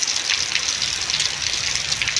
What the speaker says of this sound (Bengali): আরও জোর বৃষ্টি হবে আর এই বৃষ্টি থামবে না